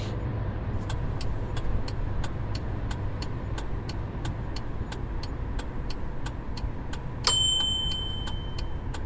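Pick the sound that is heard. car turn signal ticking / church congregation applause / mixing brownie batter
car turn signal ticking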